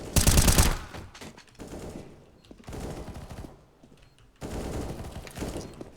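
Gunfire in a first-person shooter match being playtested, with bursts of automatic fire close and loud, separated by quieter stretches of scattered shots.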